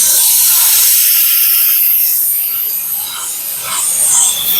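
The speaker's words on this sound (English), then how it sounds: "We're gonna steam it off." A steam cleaner hisses loudly and continuously, up close, as it blasts built-up gunk off a car steering wheel, the spray wavering slightly in intensity.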